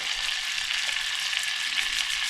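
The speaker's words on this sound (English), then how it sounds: "So we are going to melt 1 tablespoon of butter." A tablespoon of butter melts in a hot pan, giving a steady, close hiss and crackle of sizzling that runs continuously with no speech.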